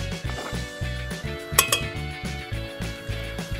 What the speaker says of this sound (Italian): mettete la pancetta nella pentola